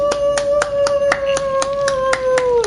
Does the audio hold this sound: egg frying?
no